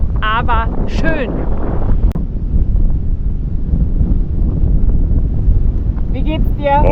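Strong gusty wind buffets the microphone with a constant low roar on a hike across windswept Fuerteventura in the Canary Islands, with brief whistling tones at the start and end.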